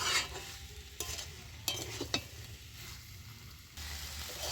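Fried potatoes and pointed gourd for a vegetarian curry are stirred in a pan, with soft sizzling broken by several distinct scraping strokes of the spatula and no voices.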